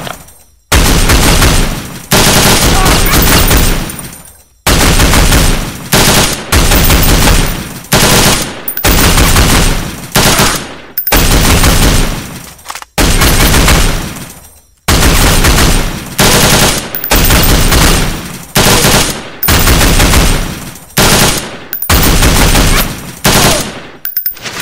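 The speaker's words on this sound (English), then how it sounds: "Listen to his firing." Machine gun fire in the video game Sierra 7 on Somalia streets, loud sustained automatic bursts separated by brief pauses, close and dominant with no talking.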